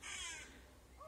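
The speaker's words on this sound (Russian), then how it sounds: "Воронки каркают." Crows cawing outdoors near a rural cemetery with a church in view, a harsh call or two early on, fairly distant and fading, with a faint later note and no talk.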